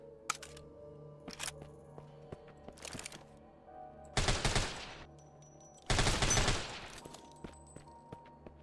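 Bursts of gunfire fired at zombies in a video game, two loud rapid volleys of a few seconds each, with faint scattered clicks and quieter game sounds between them.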